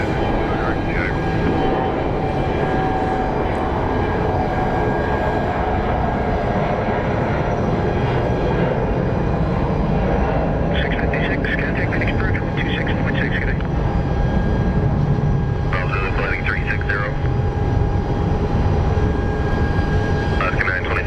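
Heavy CRJ regional jet rolling on the runway at Phoenix Sky Harbor International Airport, a steady, loud engine roar through the whole stretch, with speech over it and bursts of radio chatter.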